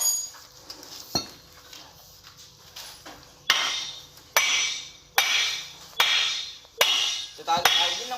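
Hammer striking metal parts while repairing a 105x cutting machine, a series of sharp ringing blows, first sparse and then in a steady rhythm of about one per second, close and loud with faint talk in the background.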